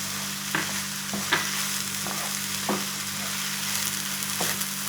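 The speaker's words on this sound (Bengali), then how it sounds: "চিনিটা দিয়ে আবার একটু নেড়ে নেবো" Apple pieces with sugar being stirred in a pan for kheer, a steady sizzle under periodic scraping strokes of a spatula, close and continuous, no speech.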